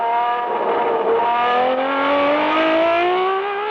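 Onboard a 1973 Matra 660 race car, the engine screams loud and close, its pitch climbing steadily through the gears with brief dips at each shift, no voices.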